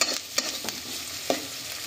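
Chopped onions frying in mustard oil in a pan, a steady soft sizzle broken by a few sharp clicks and scrapes of stirring, close and fairly quiet.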